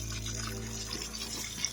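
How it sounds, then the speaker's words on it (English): Water running from an open hot water tap on a newly installed Elgena water heater in a van conversion, a steady close rushing flow with faint sputters as air escapes the line. "Open the hot water tap so the air can escape, and then when it's full, water comes out"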